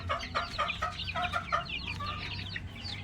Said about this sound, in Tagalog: Ito yung ating mga bagong sisiw